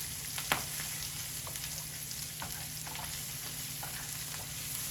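Ribeye steaks fry in a pan with a steady, close hiss of sizzling fat, broken by a few faint clicks as the meat is turned over.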